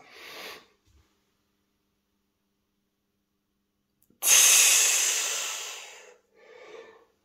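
Deep breathing during a neck exercise: a short breath at the start, then after a long silence a loud, close, forceful exhale lasting nearly two seconds, followed by a softer breath.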